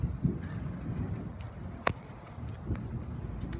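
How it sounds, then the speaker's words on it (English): Steady rain patters and hisses across the whole stretch, with a few sharper drips and taps standing out now and then. "It is raining."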